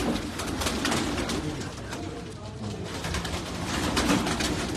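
Pigeons kept by a fancier coo steadily and close, a dense continuous warbling murmur from several birds with faint clicks and movement around them.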